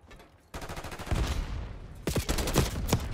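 Gunfire from the Black Ops 6 video game during a hardpoint match: bursts of rapid automatic shots and sharp reports, loud and close, with a brief quieter gap between volleys.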